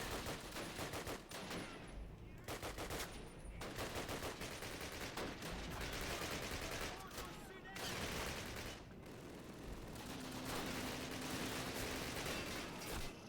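Gunfire in the 2003 video game Call of Duty during a British campaign battle, dense and continuous rattling bursts of rifle and machine-gun fire layered over constant battle noise, with a voice talking underneath.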